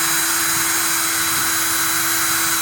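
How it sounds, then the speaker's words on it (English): A loud, continuous high-pitched motor whine of a power drill running steadily while building a wooden shadowbox, close by, with no talking. "Keep the drill straight."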